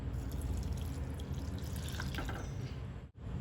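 Water poured into a pot of basmati rice and coconut milk, a steady liquid splashing with a few drips, moderately quiet and alone, cutting off abruptly near the end.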